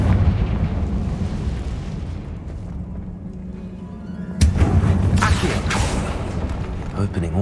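A Confringo blasting spell goes off in the Hogwarts Legacy video game, a sudden loud explosive burst about halfway through that rumbles on over steady game ambience.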